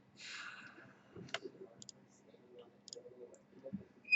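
Keyboard typing during a JavaScript programming demonstration, with scattered faint clicks and keystrokes in a quiet room and some brief quiet speech.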